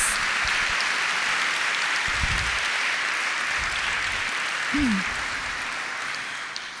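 A church congregation gives steady, moderately quiet applause during a sermon, a soft continuous patter of many hands with a few low thumps and a brief voice, tapering slightly at the end.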